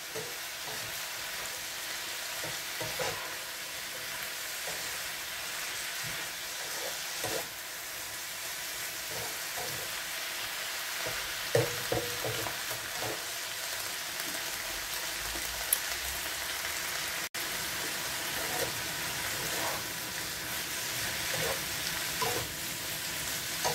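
Anchovies (dilis) sautéing in a pan before coconut milk goes in, a steady close crackling sizzle with occasional stirring scrapes, no talking.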